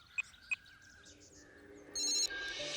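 A telephone rings with a short electronic ringtone: two faint chirping blips, then a steady ringing tone near the end. It sounds fairly quiet, close and alone, with no voices.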